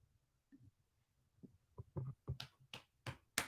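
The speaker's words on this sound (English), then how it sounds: "That's a clap because I'm holding the mic with my other hand" Single-handed claps against a mic-holding hand during a live football watchalong of Scotland versus Ukraine, a string of sharp, quickening slaps growing louder toward the end.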